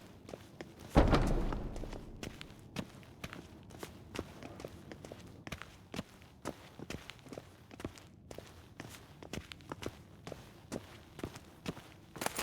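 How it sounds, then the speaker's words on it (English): Footsteps in The Witcher 3: Wild Hunt move at a steady walking pace after one heavier thud near the start. Each step is short and clear, with a faint game ambience behind them. "Footsteps."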